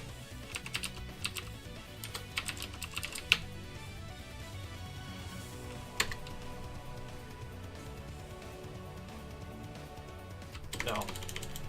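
Fingers type on a computer keyboard in bursts of quick clicks and occasional louder key strikes, quiet and close, with faint murmured speech in the background.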